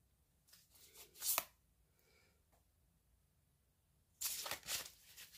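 Tarot cards being shuffled by hand in two separate bursts of quick riffling and flicking, close and fairly loud, with a quiet pause between them.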